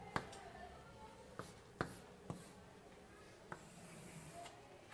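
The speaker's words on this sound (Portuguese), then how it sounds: "Vamos escrever aqui." Chalk taps and scrapes on a board during a calculus lecture come as a few sharp, faint, irregular strikes over a quiet room with low murmuring.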